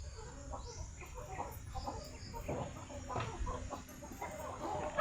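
Chickens on a farm cluck repeatedly nearby in short, scattered bursts over a steady outdoor background hum.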